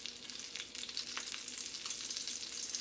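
Salmon searing skin side down in a cast iron skillet, a steady, fairly quiet bright hiss of oil with small pops and crackles, close up and uninterrupted by voices.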